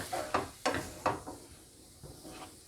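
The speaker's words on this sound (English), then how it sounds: "pretty much what I'm doing is I am just frying this corn." Corn frying in butter in a pan, a faint sizzle under a few scraping stirs and taps of a utensil, quiet and close with irregular bursts.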